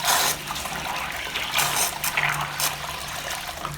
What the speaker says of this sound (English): Let's check when it works underwater. Its noise is very small.